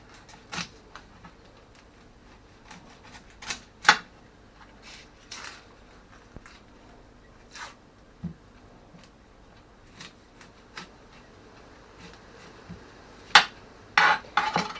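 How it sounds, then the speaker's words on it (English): A knife chopping the top and bottom off an onion on a cutting board, a handful of sharp, separate cuts and taps with quiet pauses between, close by with no talk. "all we need to do is cut the top and bottom off of the onion"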